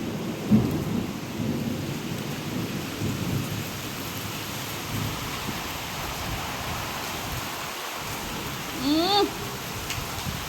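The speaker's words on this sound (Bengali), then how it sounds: "প্রচুর বৃষ্টি হচ্ছে।" Heavy rain falling steadily as a dense, even hiss, with a few louder gusts and splashes; a faint tonal sound briefly rises over it near the end.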